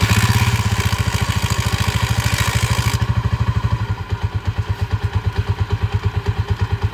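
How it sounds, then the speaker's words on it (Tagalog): A motorcycle engine with a 200cc conversion idles close by with a steady, rapid thumping pulse and a faint clatter, running alone at a constant loud level. "Ito muna ang motor ng Uncle."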